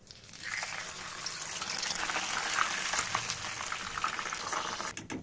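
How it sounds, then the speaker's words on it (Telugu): Fish coated in spice masala fries in hot oil with a steady, bubbling sizzle that swells in quickly and holds, ending in a few clattering knocks. "ఇప్పుడు ఈ చాపని వేడి ఆయిల్లో ఫ్రై చేసేద్దాం."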